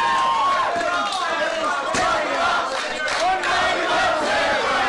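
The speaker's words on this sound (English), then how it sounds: "listen to these merciless FWA heathens in the crowd" A wrestling crowd at a six-man tag team match shouts and jeers continuously, many voices overlapping in a loud, dense roar with rising and falling yells throughout.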